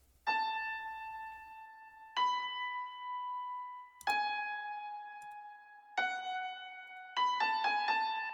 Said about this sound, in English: And here we have this top piano melody introduced